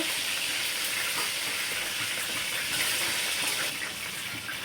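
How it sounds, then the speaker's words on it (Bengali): Steady, close sizzling and crackling of chicken frying in hot oil, continuous throughout with no voices. "এভাবে সবগুলো চিকেন ভেজে নেব"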